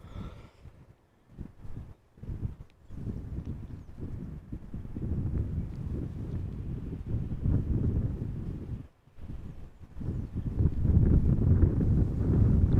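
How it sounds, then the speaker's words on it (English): A constant breeze at Amsterdam Schiphol Airport buffeting the microphone, gusty low rumbling that swells and drops, with brief lulls and a stronger gust toward the end. "there's a constant breeze over here"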